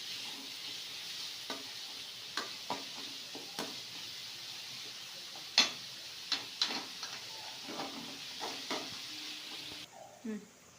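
Sliced onions sautéing in a pan make a soft, continuous sizzle, punctuated by scattered light taps and clicks from a stirring spoon and a louder scrape toward the end.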